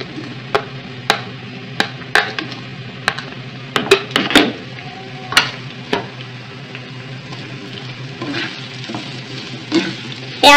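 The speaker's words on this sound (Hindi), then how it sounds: "इसी ऑयल में हम प्याज शामिल करेंगे" Onions fry in the oil left from frying okra for pyaz wali bhindi, a steady low sizzle broken by sharp, irregular spatula clicks and scrapes against the pan, close and without speech.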